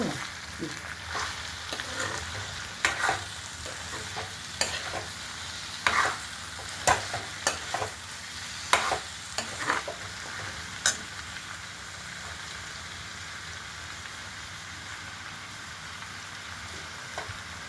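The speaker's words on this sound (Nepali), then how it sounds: "साग चाहिँ यसरी हाल्नुपर्छ हो। अब यसलाई कम्ती हाल्दै चलाउँदै जानु पऱ्यो नि हो।" Leafy greens (saag) sizzle gently in a pan while being stirred for a pork dish, with soft scraping and irregular clicks of the utensil against the pan over a low, steady frying hiss, no talking.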